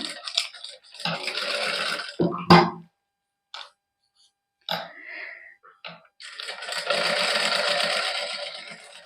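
Sewing machine stitching piping onto a printed suit, bursts of steady whirring motor noise broken by pauses and small clicks, close and fairly loud, no speech.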